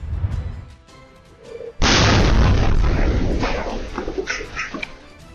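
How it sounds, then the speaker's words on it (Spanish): A truck explosion in Chicago, Illinois, caused by a propane tank: a sudden, very loud blast after quieter background noise, followed by a sustained rumbling roar and crackling debris that slowly fades. "Este es el momento de la explosión de un camión en Chicago, estado de Illinois"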